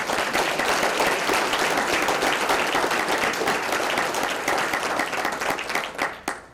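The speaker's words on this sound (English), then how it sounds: "How about a round of applause?" Applause at the 2018 Crystal Apple award ceremony in Garden City: a large audience claps steadily and loudly for about six seconds, then the clapping thins and fades out.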